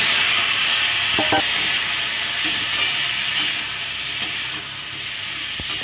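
Young bael fruit pieces frying with torn chillies and panch phoron are stirred in a pan, a steady sizzling hiss broken by a few sharp scraping knocks of the spoon against the pan.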